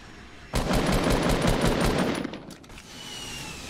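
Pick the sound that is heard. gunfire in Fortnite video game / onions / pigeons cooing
gunfire in Fortnite video game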